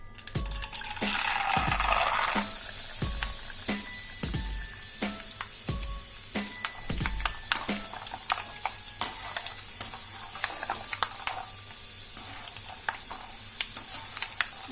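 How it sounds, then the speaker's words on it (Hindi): Peanuts frying in hot oil for thin poha chivda, a steady close sizzle with repeated stirring clinks and scrapes of a spoon against the pan throughout. "तेल गरम होने के बाद हम मूंगफली डालेंगे।"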